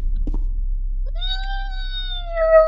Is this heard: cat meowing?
yes